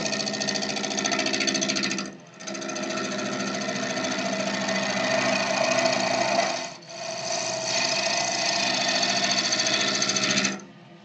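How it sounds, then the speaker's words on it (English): A bowl gouge cuts a textured, coloured wooden pot spinning on a wood lathe, giving a loud, steady, buzzing rattle that runs nearly continuously, with two brief dips where the tool lifts off the uneven surface. "I'm just going to run my bowl gouge along that wing"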